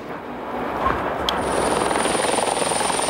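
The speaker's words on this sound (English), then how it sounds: "Like clockwork, every 5 minutes a helicopter lands, bringing refugees from the flood." A helicopter lands carrying refugees from hurricane flooding, its engine and rotor roaring loud and steady at close range with a fast, even beating pulse throughout.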